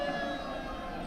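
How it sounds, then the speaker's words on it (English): A siren wails steadily in the distance during a high school football game broadcast, its tone holding through the whole short stretch with no voices over it. "I do hear sirens going by"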